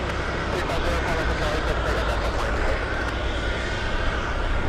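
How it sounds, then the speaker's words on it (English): Alaska Airlines jet arriving at Boston Logan Airport from San Francisco, a steady broad roar of engine noise holding level throughout, with faint murmuring voices in the background. "We have Alaska Airlines flying in from San Francisco."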